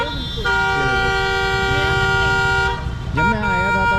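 A car horn honks with a long steady tone and then a second shorter blast on MG Marg, a busy street in Gangtok, Sikkim, heard loud and close over street noise and voices.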